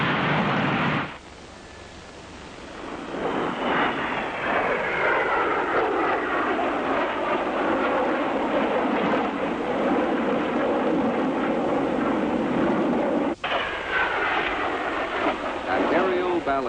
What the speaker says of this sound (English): The Panther jets, cleared for takeoff, streaked down the runway, and almost as one, tuck their wheels away and climb for the heavens.